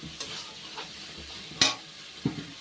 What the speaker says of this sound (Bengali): চালটা কিন্তু দিয়ে একটু ভালো করে মশলার সাথে ভেজে নিতে হবে।